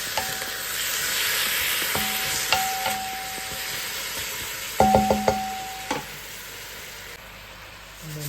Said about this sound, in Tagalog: then we cook the chicken